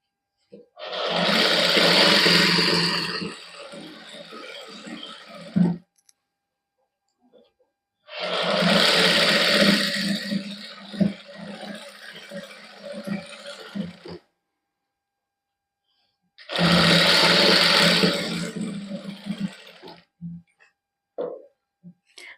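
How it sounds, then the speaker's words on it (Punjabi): Sewing machine stitching lace trim onto a printed suit, running in three long bursts of a few seconds each, separated by short pauses. "ਇਧਰਲੀ ਲੈਸ ਦੇ ਉੱਤੇ ਵੀ ਇਸ ਤਰ੍ਹਾਂ ਆਪਾਂ ਸਲਾਈ ਲਾ ਦਾਂਗੇ"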